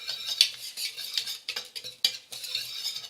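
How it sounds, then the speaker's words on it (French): A spoon stirs biscuit batter of flour, almonds and baking powder in a bowl, giving quick close scraping and soft clinking strokes in an uneven rhythm with no voices. "On mélange,"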